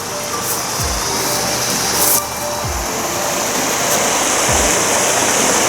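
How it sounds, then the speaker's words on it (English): A swollen, fast-flowing river in winter, running deeper and with more current than usual, gives a loud, unbroken roar of rushing water, with a few low thumps nearby and no speech. "check out the river."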